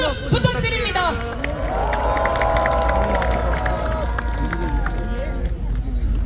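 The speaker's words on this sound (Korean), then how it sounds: "큰 박수 부탁드립니다." Crowd at a candlelight rally in front of Gwanghwamun cheering and clapping, a busy roar of shouts and claps with voices rising through it, loud and close.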